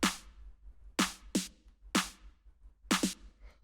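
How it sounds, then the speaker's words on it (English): A dub techno snare sample hits five times in an uneven pattern. Each hit is sharp and noisy with a short decaying tail, and it plays alone with no talk. "the next thing that we have here is the snare"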